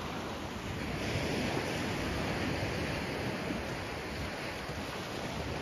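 Surf washes onto Daniela beach in Florianópolis near the end of winter, a steady broadband roar of breaking waves with some wind buffeting the microphone, continuous and fairly close, with no voices.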